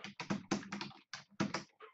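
Quick bursts of key presses on a computer keyboard while typing, dense clacking clusters with short gaps, close and fairly loud.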